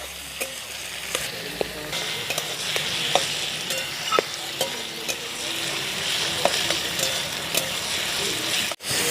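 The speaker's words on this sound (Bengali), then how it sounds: "সবগুলো একসাথে ভালো করে একটু কষিয়ে নেবো" Onion, tomato and garlic paste sizzles steadily in a pan while a spoon scrapes and taps the metal at irregular intervals, close and clear, ending in a brief knock.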